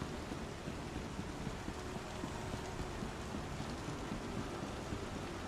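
Steady rain falling in the video game Star Citizen, a dense, even hiss of droplets that runs unbroken at moderate level with no talk over it.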